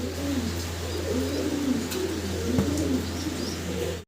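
Danish fancy pigeons coo in repeated soft, low rolling phrases over a steady hum, close by, with no talk.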